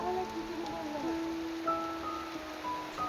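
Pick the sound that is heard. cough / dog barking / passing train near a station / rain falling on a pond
rain falling on a pond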